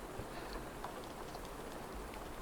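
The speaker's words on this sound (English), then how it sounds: "Why does my rain keep having that little stop?" Steady rain from the weather effect in the Pokemon Radical Red video game hisses continuously across the whole stretch, a dense even wash of patter with no voices over it.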